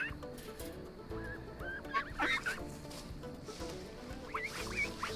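Young buff ducklings settle into a chicken tractor, giving faint, scattered peeps and chirps with a few brief clustered calls over a low, steady outdoor background.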